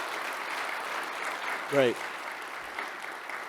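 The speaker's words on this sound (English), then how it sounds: "Another round of applause." Audience applause at a professional talk event, a broad steady wash of clapping throughout, with one short spoken word over it partway through.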